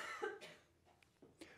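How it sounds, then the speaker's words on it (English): A person gives a few short, faint coughs close to the microphone in a quiet indoor setting, two quick pairs of throat bursts spread over a second and a half. "I have to cough a little bit."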